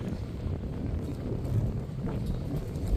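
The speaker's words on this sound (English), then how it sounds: "very windy. I hope you can hear me." Steady wind buffeting the microphone on the Wildwood, New Jersey boardwalk, a continuous low rumble with no talking.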